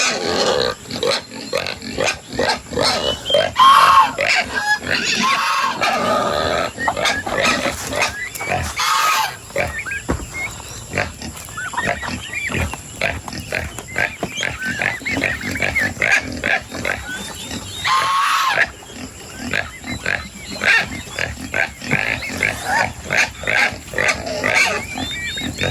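Pigs on a rural farm grunt and oink steadily for the whole stretch, close and fairly loud, with busy rustling and shuffling from the pen and a few brief squeals.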